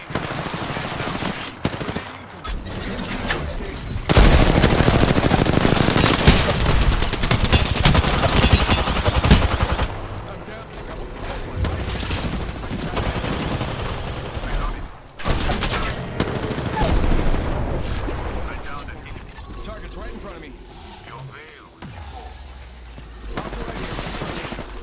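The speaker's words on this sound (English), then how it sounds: "shot at an enemy" Sustained bursts of automatic weapon fire in the shooter game Apex Legends, rattling loudly in long volleys with short pauses and a quieter stretch near the end, with no talk over it.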